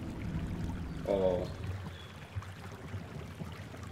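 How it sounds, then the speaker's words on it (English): Blood flows as a river in Alice: Madness Returns, a low steady rushing stream with a brief louder gurgling surge early on, otherwise faint and continuous. "A river full of blood."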